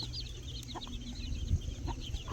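Free-range country chickens cluck softly and intermittently in a farmyard, a faint, scattered clucking over low background rumble with no voices.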